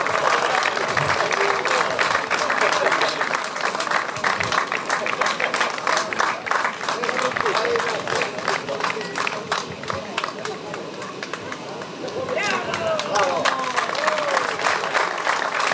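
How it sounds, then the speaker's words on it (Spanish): At an award ceremony for a hill-climb rally in Vilar de Barrio, a crowd applauds with sustained, dense clapping, while a voice speaks over the clapping at times. "Aplauso tamén para el, alcalde de Vilar de Barrio, Manuel Conde, como vencedor da súa clase 7."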